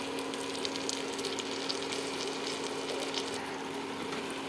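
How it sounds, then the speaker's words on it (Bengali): Ginger paste, spices and a green and red chili paste fry in a pan, giving a continuous soft sizzle and bubbling hiss at low level, with no talking. "এবার অ্যাড করে দিচ্ছি একটুখানি কাঁচা লঙ্কা, পাকা লঙ্কা 2টো মিক্স করে বেটে রাখা ছিল ওইটা।"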